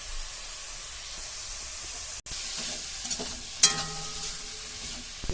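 Momo stuffing with salt, turmeric, coriander powder and red chilli being stirred in a pan, a constant bright sizzle with scraping strokes and one sharp clatter near the end, close up and without talk.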